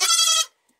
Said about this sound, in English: we have a pile of goats.